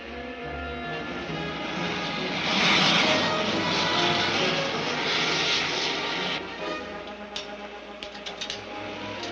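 A propeller airplane engine drones steadily on a landing approach, swelling slightly louder and then easing back, with scattered light clicks near the end and no voices.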